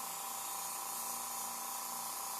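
Steady, continuous hiss of an airbrush or spray gun applying paint to a zombie kneecap prop, even and unbroken throughout with no voices.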